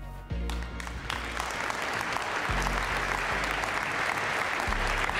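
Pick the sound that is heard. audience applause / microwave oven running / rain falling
audience applause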